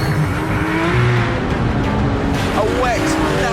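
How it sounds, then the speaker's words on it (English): A 500-horsepower 4.0-litre Porsche 911 GT3 RS flat-six revs and shifts on a wet, narrow track, the engine note rising and falling loudly under a voice. "This is the star of the show, a 4-litre masterpiece, the biggest 911 engine ever."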